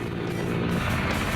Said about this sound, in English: I can't hear you over this engine.